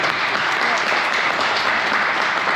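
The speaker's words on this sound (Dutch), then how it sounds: "Dus nogmaals applaus voor deze 2." Loud, close applause for two volunteers at a Corvette club meeting: a thick, steady burst of many hands clapping at once, sustained evenly without pause and with no talk over it.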